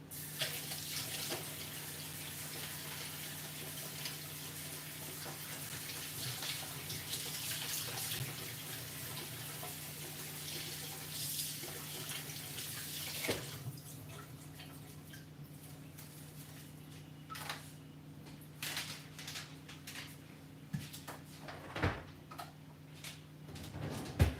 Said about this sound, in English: I'm just gonna give them a quick rinse as well